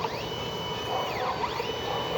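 A 60 cm DTF printer runs a head cleaning cycle, giving a steady mechanical whir with rising and falling motor sweeps as the carriage moves, close and moderately loud with no talking.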